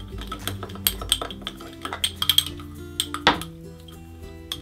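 A spoon mixing baking soda and sugar in a small container for a toy volcano, giving repeated bright clinks and scrapes of metal on a hard dish at close range, irregular and fairly loud.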